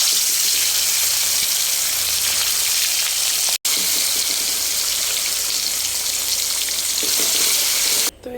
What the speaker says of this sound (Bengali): তো আমার এখন তেলটা গরম হয়ে গেছে, আমি মাছ এক এক করে ছেড়ে দেব।